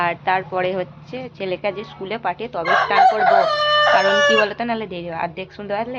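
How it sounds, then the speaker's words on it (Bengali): A young village rooster crows once, a long drawn call in the middle, while someone talks steadily close by before and after it. "আমাদের ওই যে দেখো মোরগটা হচ্ছে"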